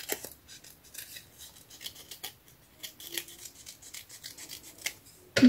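Scissors snipping through paper pages for a junk journal, a series of small close rasping cuts and rustles with short pauses between, ending in a louder handling noise.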